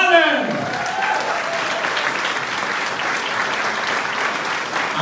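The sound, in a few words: round of applause for award winner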